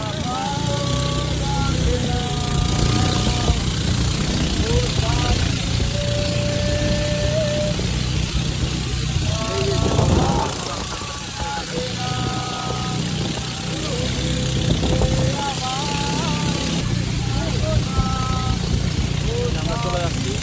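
A boat engine drones loudly and continuously as the boat speeds downstream on a river in Bandarban, with people talking and shouting over the steady roar throughout.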